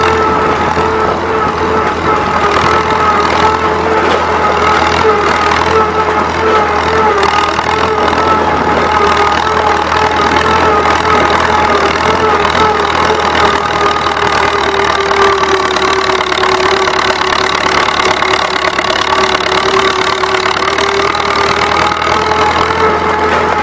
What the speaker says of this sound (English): listen to this old motor cackle a little bit, and listen to the governor open up whenever it goes up this slight incline